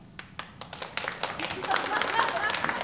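A podcast audience claps in response to a poll, with scattered single claps at first swelling into fuller applause by the end.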